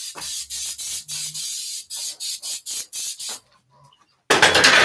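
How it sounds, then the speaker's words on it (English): Cooking spray hisses from a can onto a 12-cup muffin pan in a run of short bursts, close and loud, ending in a brief quiet pause. "I'm going to spray my pan"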